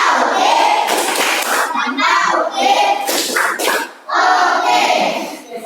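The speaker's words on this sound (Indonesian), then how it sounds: "Nah, kasih tepuk oke dulu biar senang dia." Schoolchildren in a classroom perform a rhythmic 'tepuk oke' clapping chant, bursts of patterned claps mixed with their shouted chanting voices, in several groups separated by short pauses.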